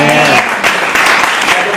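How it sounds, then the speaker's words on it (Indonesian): Congregation clapping at a miracle prayer worship service, a dense burst of hand claps filling the hall, loud and close with voices mixed in. "Tepuk tangan buat Tuhan Yesus."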